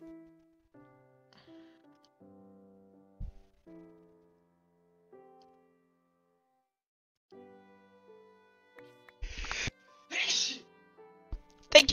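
A sneeze cuts through a quiet indoor moment during a chill Minecraft play session, two sharp bursts close to the mic near the end, with soft game sounds and people talking around them.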